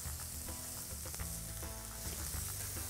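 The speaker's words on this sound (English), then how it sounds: "Next that we're going to add in there is our paprika. And we're just going to cook that out for a couple of seconds." Onions and paprika frying in a pan, a soft, steady sizzle with faint crackles and occasional stirring scrapes, quiet and close, no talking.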